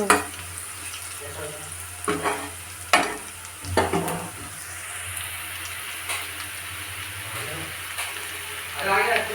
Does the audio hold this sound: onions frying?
yes